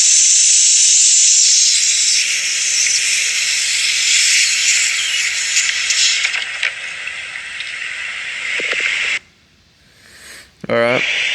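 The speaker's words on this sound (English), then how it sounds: "Listen to all that coolant pressure, boys." Loud, steady hissing of coolant pressure escaping from a Ford 6.0 Powerstroke diesel engine, close up and continuous for about nine seconds before cutting off, followed by a brief sweeping whine.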